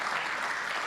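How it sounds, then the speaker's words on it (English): Short stretch of audience applause for a speaker at an event, steady mass clapping heard from within the room, fairly soft and with no talk over it. "Let's give Seth a round of applause"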